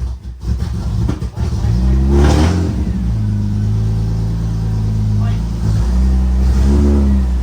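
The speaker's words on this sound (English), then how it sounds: "Keep revving it." A Toyota Supra engine, not driven in a while, revs hard and holds at a loud, rough, sustained roar, with pitch rising and falling as the throttle is worked, close to the microphone.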